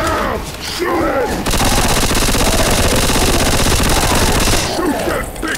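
Sustained rapid automatic gunfire in the Left 4 Dead video game, a dense, loud, continuous stream of shots lasting several seconds, framed by brief noisy action before and after.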